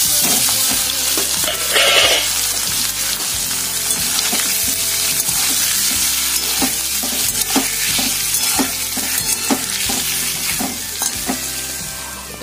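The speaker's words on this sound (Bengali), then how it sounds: "তেল গরম হয়ে গেছে, পনিরগুলো ভেজে নিই" Paneer pieces frying in hot oil, a loud continuous close sizzle with scattered pops and crackles, over a low steady background hum.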